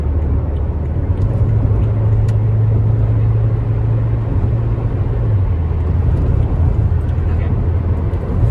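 A 2001 Peugeot 406 automatic cruises at about 100 to 120 km/h, heard as a steady, loud low rumble of engine and road noise from inside the cabin, with a faint droning tone that holds and then drops slightly.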